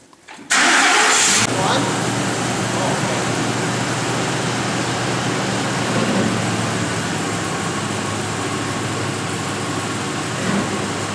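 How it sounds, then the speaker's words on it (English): A Ford F150 with a 5.4L Triton engine cranks and catches abruptly, then settles into a loud, steady idle that holds close and continuous for the remaining seconds after a fresh oil change. "is going to start up the vehicle and we're going to see if there's any leaks"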